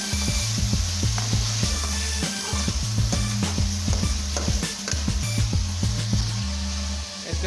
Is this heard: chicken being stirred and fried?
yes